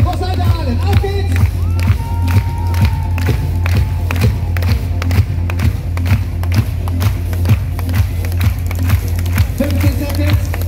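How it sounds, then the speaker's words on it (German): Spectators at a UCI mountain bike World Cup race in Aalen clap in a steady rhythm, a loud crowd pounding out the beat amid cheering, shouts and general hubbub. "Aber jetzt können wir wieder im Takt klatschen"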